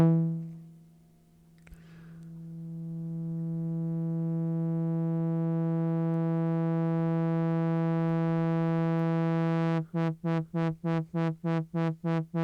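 A held note on an IK Multimedia UNO Synth Pro drones steadily, its tone slowly brightening as the filter opens, then the looping filter envelope chops it into a fast, regular pulsing wah in the final seconds.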